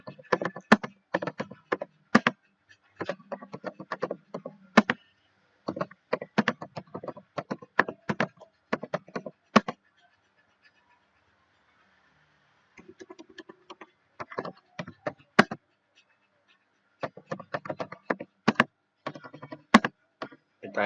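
Quick, steady clicking of keys on a computer keyboard while a document is typed, close and dry, in bursts broken by a few short pauses, with no talking.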